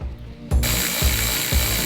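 A ratchet tightens the big door hinge bolt on a Rolls-Royce Wraith, giving three evenly spaced, close mechanical clicks over a steady background hum.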